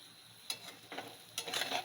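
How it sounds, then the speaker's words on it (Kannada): Onions fry gently in a pan for mango chitranna. The sizzle is quiet, and a few short bursts of stirring and scraping come close together, with no one speaking. "ಆನಿಯನ್ನ ಪಿಂಕ್ ಕಲರ್ ಬರೋವರೆಗೂ ಫ್ರೈ ಮಾಡ್ಕೊಳ್ಳೋಣ"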